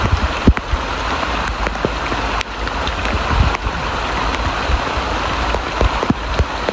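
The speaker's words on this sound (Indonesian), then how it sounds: "cuman memang masih gerimis" Light drizzle falls during a mountain hike on Mount Sumbing, a steady soft patter of rain with scattered nearby drops and rustles, fairly close and continuous with no talk.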